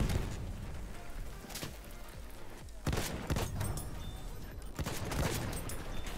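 Rapid bursts of gunfire in Battlefield 1, a dense series of sharp shots and booms cracking over a continuous roar of battle noise, with no talking.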